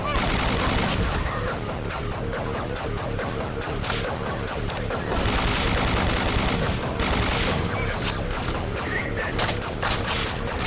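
Rapid gunfire from a fast-firing weapon in the BrainBread 2 game, with dense, sustained bursts of shots that are loud and close, lasting nearly the whole stretch.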